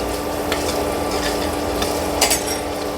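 Spices crackle and sizzle steadily in hot oil for a tempering, a dense close-up frying hiss with a few sharper pops and the light scrape of stirring.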